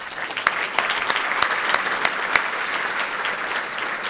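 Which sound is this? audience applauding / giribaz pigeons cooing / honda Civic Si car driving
audience applauding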